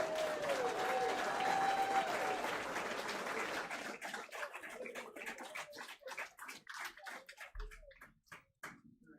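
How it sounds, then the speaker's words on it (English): Warm applause from an audience at a board meeting honoring students, a dense wash of clapping that thins into scattered individual claps before fading out. "can we give these students another round of applause, please?"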